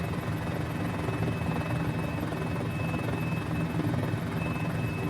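A Got Friends Mini-500 helicopter in flight on Easter Island drones steadily at close range, its rotor and engine making a dense, unbroken buzzing roar with a faint high whine, no voices over it.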